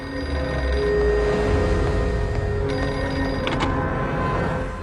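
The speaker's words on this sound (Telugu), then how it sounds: "ప్లాట్ఫామ్ నంబర్ 1 మీద ఉన్న పబ్లిక్ టెలిఫోన్ రింగ్ అవుతుంది" A public telephone on a railway platform rings with a continuous electronic bell tone, loud and steady throughout, over a low background hum.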